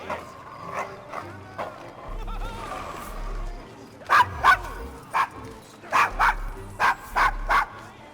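A dog barks in Assassin's Creed Syndicate, a run of sharp, loud barks in close succession over low game ambience, with a short stretch of quieter barking and whining before it.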